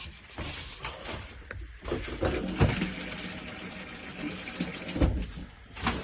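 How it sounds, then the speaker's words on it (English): A bathroom tap in a caravan runs, water splashing steadily into a basin at close range with uneven gurgling bursts. "Bathroom taps."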